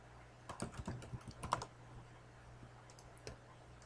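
A few quick clicks of keys on a computer keyboard, a short burst pressed close by, then two lighter taps after a pause.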